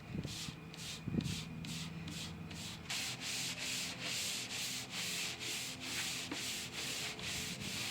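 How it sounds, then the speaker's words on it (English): Old finish on dining room furniture is scuff sanded, a quiet, evenly rhythmic rasp of repeated back-and-forth strokes that speeds up partway through, with no voices. "I'm just going to scuff sand the rest of it because it's getting painted."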